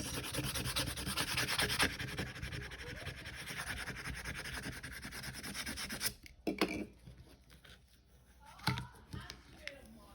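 A tool scrapes burnt torch paste off a wood surface in a steady, close, rasping rub that runs for several seconds, then breaks into a few sparse scratches with quiet gaps.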